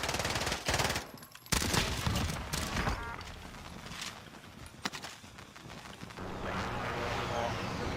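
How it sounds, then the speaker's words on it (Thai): Rapid automatic gunfire and scattered shots from the Call of Duty Warzone video game, dense bursts for most of the stretch, with a loud roar building near the end and occasional voices mixed in. "มันยิงกันอยู่มันยิงกันอยู่"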